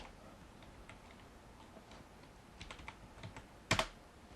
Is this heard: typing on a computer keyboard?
yes